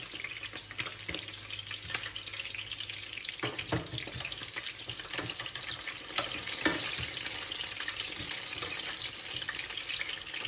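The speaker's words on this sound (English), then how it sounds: "we'll keep going frying." Busy, close sizzling and crackling of Sicilian fish fritters frying in hot oil, steady throughout with occasional sharper pops and stirring clatter.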